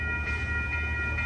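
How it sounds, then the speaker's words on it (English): Amtrak Coast Starlight passenger train in Oakland, led by two ALC-42 locomotives in a triple-header, rolls past with a steady, loud continuous rumble and a sustained high tonal whine, close by and without talk. "Rolling by here with an ALC-42 leading off"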